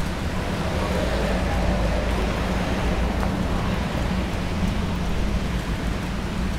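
Steady rain hisses over a wet Sydney street on a very wet day, a dense broadband wash with low traffic rumble underneath, continuous and fairly loud throughout.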